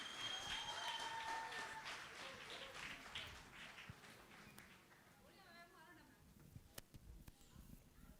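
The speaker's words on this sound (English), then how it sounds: "A big round of applause, ladies and gentlemen." Audience applause at a stage talent show, a dense wash of clapping loud at first and then thinning and fading, with a few scattered claps and background voices near the end.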